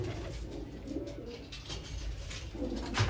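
Pigeons kept in a loft coo in soft, repeated low calls, several birds overlapping close by with a steady rustle underneath; no one speaks.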